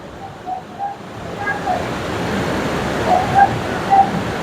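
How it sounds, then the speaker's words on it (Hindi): Water flows strongly through a construction site where concrete is being poured, a steady rushing wash with faint intermittent tonal clanks, and a voice talks over it. "मगर आप देख सकते हैं कितना बहाव यहाँ पे रहता है पानी का।"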